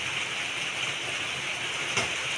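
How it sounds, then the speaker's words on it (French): Rain falls steadily onto a veranda kitchen, making a constant broadband hiss with no pauses and one brief brighter spatter near the end. "Et en plus de ça, il pleut"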